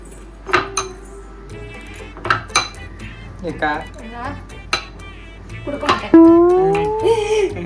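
A metal spoon clinks and scrapes against a glass while sugar is added to a mojito with crushed orange, several sharp taps spread across the moment, with voices talking in the background.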